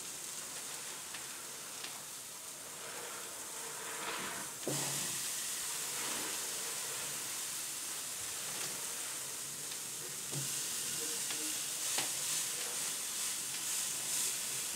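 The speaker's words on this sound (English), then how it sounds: "Oh, it's sizzling." Thick steaks sizzle on an outdoor grill grate with a bright, steady hiss that swells as more meat lands on the heat, a couple of sharp taps marking the moments they are placed.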